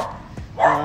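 A big dog barks once, loud and close, in a single sharp burst near the end after a lower growling sound.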